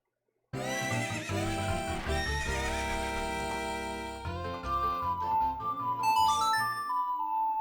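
A horse in Zelda: Ocarina of Time gives a long, loud, tonal whinny that falls and breaks into snorting bursts, with a bright jingling tone near the end.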